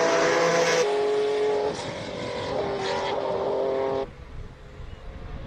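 A classic BMW E36 race car pulls away at a speed event in Cape Town, its engine roaring loudly at first, then shifting through gears as the sound steadily recedes and drops away sharply near the end.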